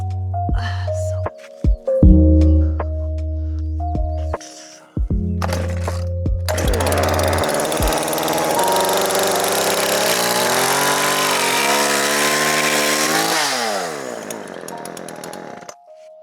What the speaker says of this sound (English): So I might just get my chainsaw and cut the top off straight away.